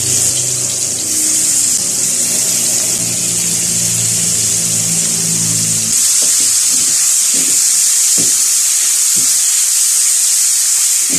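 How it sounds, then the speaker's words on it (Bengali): Spiced fish fries in hot mustard oil with a loud, continuous hiss and sizzle that sharpens partway through, broken by a few crackling pops, close and without voices. "মাছগুলো আমি 3-4 মিনিট ভেজে নেব।"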